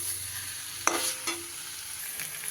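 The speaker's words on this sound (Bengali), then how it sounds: "ফুলকপির সাথেও খুব ভালো করে মশলাটা আমি মিশিয়ে নেব।" Spiced cauliflower fries in a pan and is stirred, a quiet steady sizzle broken by a few scraping strokes of the spoon, close, with no talking.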